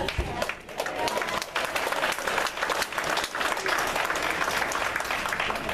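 At a candidates' night for a political group, an audience bursts into applause that holds steady as a dense, roomy wash of clapping for several seconds.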